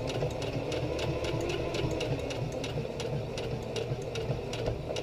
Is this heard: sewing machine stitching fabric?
yes